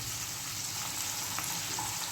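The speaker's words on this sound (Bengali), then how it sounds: "মোটামুটি আমার পেঁয়াজটা ভাজা ভাজা হয়ে গেছে" Onion and capsicum sizzle in a hot pan, a steady, close crackling fry with soft stirring and no talking.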